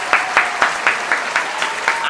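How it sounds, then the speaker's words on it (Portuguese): Hands clap in an even rhythm, about eight claps in two seconds, close and fairly loud, as a small round of applause. "uma salva de palmas aqui pra mim"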